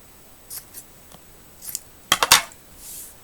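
Scissors snip through a square of furnace filter material: a few light, isolated cuts early on, then a quick burst of three sharp, close snips, with no voices.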